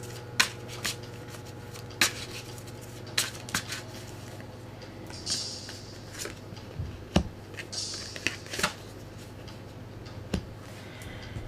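Tarot cards are handled and pulled from a second deck, giving crisp, scattered snaps, flicks and soft shuffling clicks at an uneven pace over a quiet room background.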